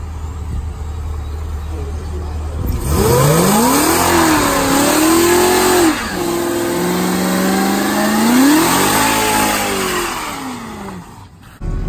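A 500 hp Corvette with long-tube headers, X-pipe and a tune, on street tires, accelerates hard, its engine note sweeping up through repeated gear pulls, loud and close, after a brief quiet idle.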